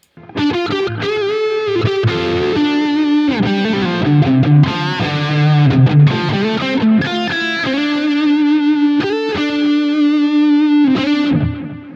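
A distorted electric guitar, played through an amp plugin's Snake Pit Lead preset with the master pushed up, plays a lead solo with sustained, bending notes and fast runs, heavily saturated with a touch of chorus and reverb.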